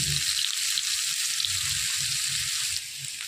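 Onions frying in a pan for a homestyle potato curry, a steady hiss of sizzling oil with soft low bubbling and stirring underneath, continuous and close.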